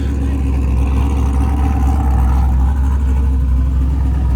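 A 1998 Camaro with an LS1 V8 rumbles loudly and steadily at close range, its low engine note held at a sustained rev as it builds for a sitting burnout.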